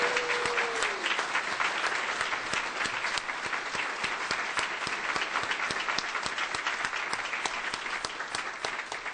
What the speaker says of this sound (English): So please join me in giving Alex a big round of applause.